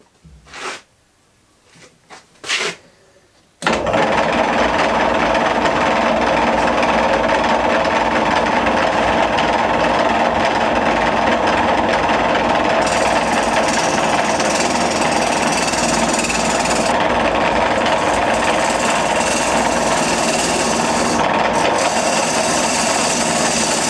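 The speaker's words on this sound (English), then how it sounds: "I'll get in the bowl turning gouge and starting on with that process" Wooden bowl spinning on a lathe while a bowl gouge cuts it, a loud, steady, continuous grinding roar heard close, after a few brief knocks at the start.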